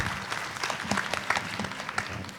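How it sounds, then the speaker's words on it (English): An audience at an education leaders' symposium in Thailand claps to welcome a speaker, with brief, moderately quiet scattered clapping and no voices over it. "Please give him a big applause."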